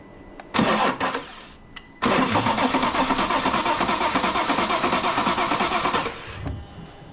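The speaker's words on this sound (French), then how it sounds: "Je mets un coup de démarreur." A BMW N57 3.0 diesel engine cranks on the starter: a brief first attempt, then a longer steady churning crank lasting several seconds before cutting off, loud and close.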